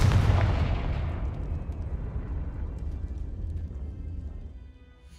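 A Confringo fire spell blasts in Hogwarts Legacy, one heavy booming explosion that hits at once and then rumbles away over several seconds.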